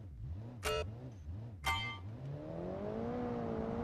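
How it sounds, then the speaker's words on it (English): In a building and racing video game, a car with an economy-tuned engine revs in rising and falling waves, then climbs into a steady whine. Two short sharp clicks cut in early on. "You're still not gonna hear much of the engine because it's a hypermiler engine essentially."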